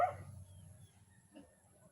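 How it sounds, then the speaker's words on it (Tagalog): A neighbour's dog barks at a house, one short sharp bark at the start and a fainter second yelp about a second later, both heard from nearby in otherwise quiet surroundings. "May aso sa kapitbahay yan."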